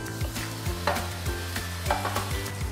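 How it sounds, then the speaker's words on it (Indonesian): Tuna fries in a hot pan with a steady, close sizzle, broken by a few soft stirring or shifting knocks at irregular intervals. No voices are present. "kita goreng tuna yang satunya lagi"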